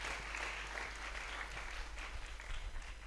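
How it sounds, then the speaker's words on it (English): A TEDx UHAS 2023 audience gives a round of applause for a speaker, Reverend Adonai, a steady wash of clapping heard softly from a distance. "A round of applause for Reverend Adonai,"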